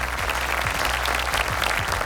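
A large audience applauds at a global real estate brand awards ceremony in 2024, a dense, steady wash of clapping filling the hall for about two seconds with no talk over it.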